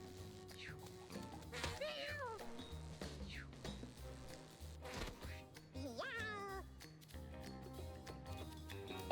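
A cat in the video game Mewgenics meows several times, with clear rising and falling cries over looping game music and occasional clinks.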